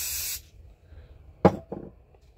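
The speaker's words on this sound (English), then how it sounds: "give the top area of the shock a blast with some brake cleaner just to get the excess silicone off" A short, sharp spray of brake cleaner blasts the top of a Schumacher LD3 RC shock for under half a second, followed by a couple of faint handling knocks.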